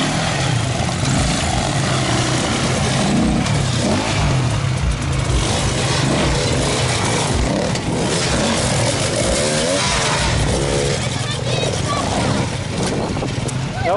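Enduro motorcycles race on a sprint track, their engines droning and revving loudly and continuously, with people talking nearby over the noise.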